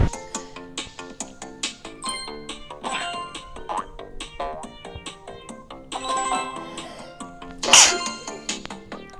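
A single sharp sneeze bursts out loudly near the end, within a Red Ball platform game, over busy, bouncy game music and sound effects.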